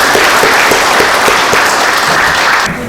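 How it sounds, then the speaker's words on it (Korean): An audience at a panel discussion in Andong applauds the head of the Korea Culture and Tourism Institute, loud, close, dense clapping sustained for a few seconds before cutting off abruptly. "박수 한번 주시죠"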